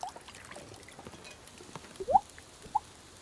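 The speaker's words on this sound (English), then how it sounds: "Not a good water drop sound effect." A water drop sound effect from The Long Dark: two or three small, bright plinks, faint and close, over a quiet, slightly noisy background.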